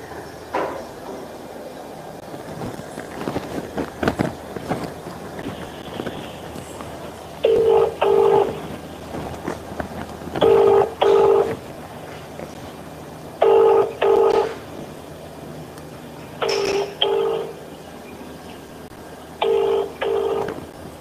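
Telephone dialing on a phone-in line, a series of short clustered keypad tones in separate bursts with quiet gaps between them, fairly clear over faint background noise.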